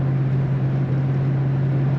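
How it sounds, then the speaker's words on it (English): A 1967 Ford Mustang convertible with an automatic transmission accelerating, giving a loud, steady low engine drone with a strong hum throughout, close and continuous with no talking. "Nice acceleration in this Mustang."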